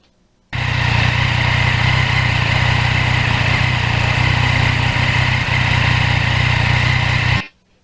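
A Yamaha MT-09 motorcycle rides at a steady pace, its engine a continuous loud drone with wind rush, close and unbroken for several seconds.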